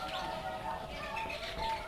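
Zebra doves (perkutut) coo steadily at a bird breeding farm, soft repeated calls mixed with chirps, occasional wing flutters and a constant background of many birds.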